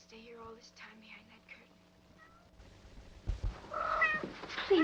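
Cats meow several times toward the end, growing louder over a quiet indoor background, with a voice heard earlier.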